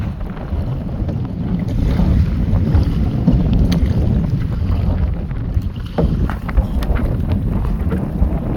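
Strong wind buffets the microphone at sea beside a fishing boat, a loud, continuous low roar mixed with water wash and hull noise, gusting steadily with no clear speech.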